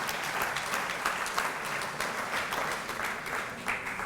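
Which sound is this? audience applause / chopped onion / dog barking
audience applause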